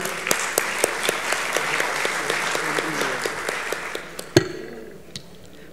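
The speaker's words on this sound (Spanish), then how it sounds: "Recibamos con un fuerte aplauso a Ann Caroline Póstuma." A conference audience at the opening session of an international labour meeting applauds steadily for several seconds, a dense wash of clapping with a few sharp claps on top, then the applause dies down to quiet room tone.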